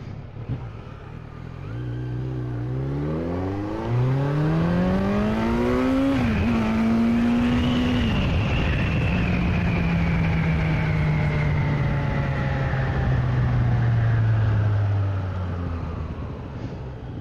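A Kawasaki Z900 motorcycle accelerates hard on an empty highway, its engine note climbing through several gear shifts before settling into a steady high-speed drone with wind noise.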